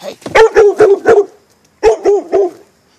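A dog barks loudly and close by, a quick run of four or five sharp barks, a brief pause, then three more.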